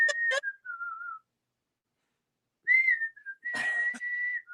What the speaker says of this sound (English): This is my whistle.